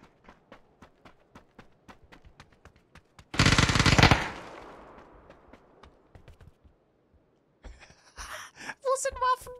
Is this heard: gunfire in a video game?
yes